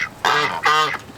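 Farmyard Muscovy ducks and geese calling, two loud nasal honking quacks close by, each lasting about a third of a second with a brief gap between them.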